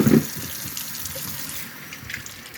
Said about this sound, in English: We're going to rinse these off and put them right back in this bowl.